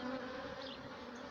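Honey bees hum at a hive, a steady close drone of many workers with a slight wavering pitch, brief and continuous with no speech.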